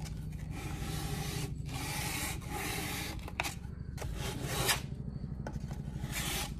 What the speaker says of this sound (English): So your first step is to sand it all.